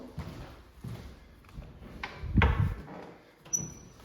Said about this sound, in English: Nice big chunky heavy doors. Open up the other one.